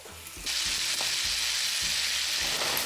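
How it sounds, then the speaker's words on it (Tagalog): Butter melts in a hot pan beside steak, giving a loud, steady sizzle and frying hiss that builds after a brief start. Faint low knocks and stirring sounds run underneath. "ilalagay ko na yung natira pa na butter. Yan, pabayaan natin yung mag-melt."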